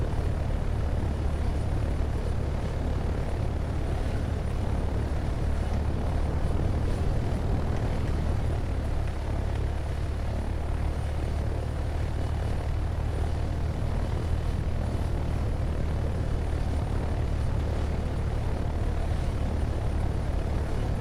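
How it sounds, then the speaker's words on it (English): Low flyby by an aircraft near Green Mountain, heard as a continuous, fairly loud engine drone that stays steady throughout, with no voices. "I'll do a low flyby."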